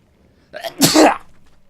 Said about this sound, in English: Oh dear, gonna sneeze.